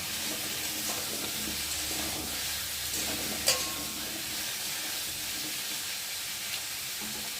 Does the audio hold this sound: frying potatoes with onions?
yes